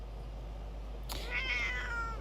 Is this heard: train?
no